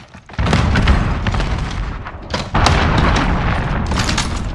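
In Call of Duty Modern Warfare, a cruise missile strike booms with deep, rumbling blasts. A heavy roar starts abruptly, eases, then swells again with another loud impact and continues rolling.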